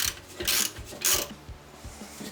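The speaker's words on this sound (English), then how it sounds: "Bottom bolt coming out" A ratchet works on a brake caliper bolt of a VW/Audi car, giving quick repeated clicking strokes in short bursts with a metallic rasp, close and fairly quiet.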